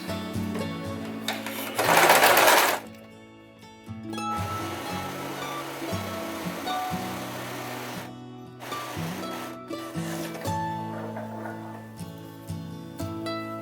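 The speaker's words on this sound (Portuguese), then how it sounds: "Então nós vamos costurar todas as alças, aqui na máquina, tá?" A sewing machine stitches apron straps in steady whirring bursts, pausing and restarting several times, with a louder rustle of fabric near the start; close and clear with no talking.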